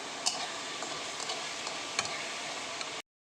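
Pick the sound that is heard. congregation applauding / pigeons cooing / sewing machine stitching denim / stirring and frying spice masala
stirring and frying spice masala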